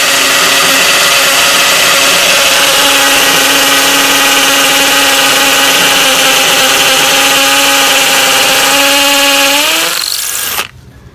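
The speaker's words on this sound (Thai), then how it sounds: "ปรับระบบกระแทกนะครับผม เจาะกำแพงบ้านนะครับผม ปูนกำแพงบ้านนะครับ" Imax 24V cordless hammer drill in hammer mode boring into a concrete house wall, a loud continuous whining grind that holds steady for about ten seconds, then spins down and stops abruptly.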